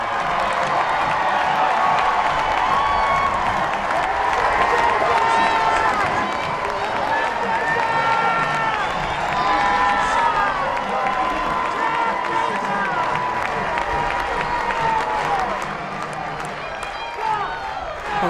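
Ballpark crowd at a women's college softball game between Ole Miss and Arizona cheering and clapping steadily after a home run, a broad continuous roar with an announcer talking over it.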